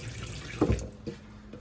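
Water runs from a tap with a soft steady hiss and a brief splashing surge, faint and close.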